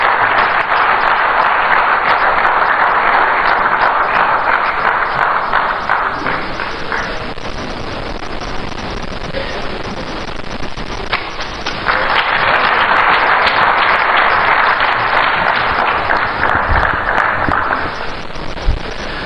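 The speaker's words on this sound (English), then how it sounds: "Ladies and gentlemen, round of applause for Honorable Sam Okujeto Ablakwa." Sustained loud applause from a large crowd at a political speech in Accra, continuous clapping and cheering that swells, dips slightly midway, then rises again.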